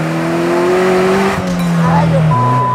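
Racing driver Checo Pérez at the wheel of a car, its engine droning loudly and steadily shifting pitch while tires squeal, with people talking over it.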